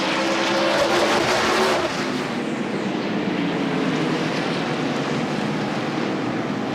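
NASCAR stock cars racing at North Wilkesboro Speedway during the 1996 Tyson Holly Farms 400, a loud sustained engine roar that swells as a pack passes close by and then settles into a steady, slightly more distant drone.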